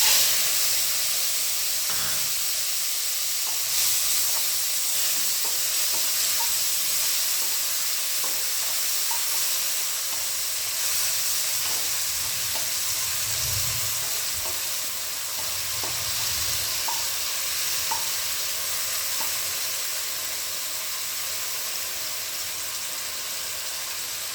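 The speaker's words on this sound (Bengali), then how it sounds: "চিংড়ি মাছগুলো আমি নুন হলুদ মাখিয়ে নিয়েছি, এবার তেলের মধ্যে দিয়ে দিচ্ছি" Prawns coated in salt and turmeric sizzle steadily in hot oil, a continuous close hiss that stays loud and even throughout with a few faint clinks and stirring sounds underneath.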